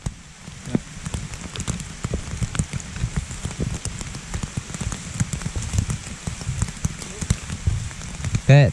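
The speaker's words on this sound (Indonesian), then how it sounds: "Mulai turun hujan ya, guys ya." Steady rain patters on a mountain trail in the Malabar range, a dense wash of drops hitting the ground and gear close by, with scattered louder splashes throughout.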